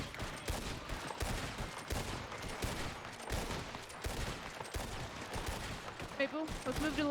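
Sustained bursts of gunfire from a western roleplay video game, rapid cracking shots in a steady fusillade of covering fire, fairly loud and continuous, with radio-style voices around it.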